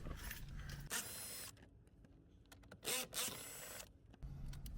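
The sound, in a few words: undoing 10mm bolts on a Lexus IS dashboard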